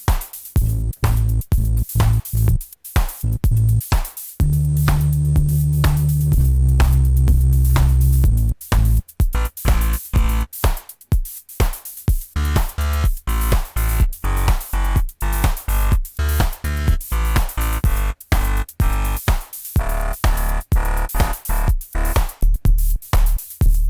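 Deep Omnisphere synthesizer bass preset notes chopped into a pulsing, gated rhythm with sustained low tones partway through, loud and upfront with no voices.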